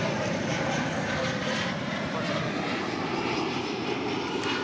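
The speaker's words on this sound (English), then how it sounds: "Flight 128 coming in from Shanghai. It's American Airlines 7878 Dreamliner." An American Airlines Boeing 787-8 Dreamliner, arriving on a long flight from Shanghai, comes in to land at Dallas Fort Worth airport, its jet engines a steady, fairly distant roar that holds level throughout.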